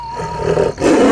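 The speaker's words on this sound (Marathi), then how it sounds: "त्यांच्या वाघाचा आवाज होईल हे" A loud, short cartoon tiger roar, a deep growling snarl that breaks briefly and surges again, close and alone.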